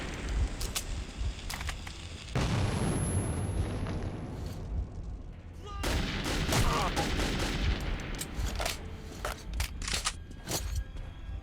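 Grenade blast and gunfire in the video game Metro 2033: dense, loud bursts of shots and booming explosions fill the scene, with a break near the middle before another heavy barrage, and a faint voice underneath.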